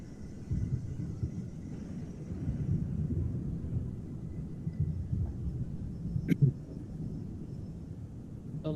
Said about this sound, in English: The loud, roarous storm outside seems to be cut in half in its veracity, as the walls are rather thick